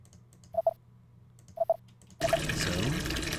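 Water flowing through underground tunnels in the game BlackSoul, a steady broadband rush that starts abruptly partway through and continues loudly, preceded by a few faint, sharp clicks over a low hum.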